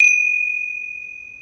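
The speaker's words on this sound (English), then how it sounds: "I'm going to open and close the puja with a gong." A gong struck once to open a Hindu puja to Shiva and Parvati: one bright metallic strike with a clear, steady ringing tone that hangs on and slowly fades, alone and close.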